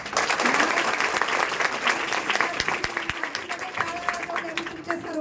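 Dense, loud crowd applause at a Ganpati aarti, steady clapping from many hands throughout with a murmur of voices underneath.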